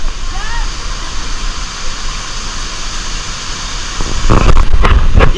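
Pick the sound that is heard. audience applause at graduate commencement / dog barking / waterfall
waterfall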